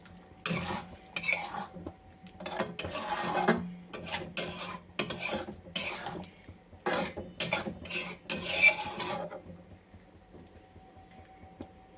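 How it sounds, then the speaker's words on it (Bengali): A spatula scrapes and stirs food seasoned with garam masala around a metal pan in a run of short rasping bursts with brief pauses, close and fairly loud, with no talk. "এটাকে এবার একটুখানি নেড়ে নিই।"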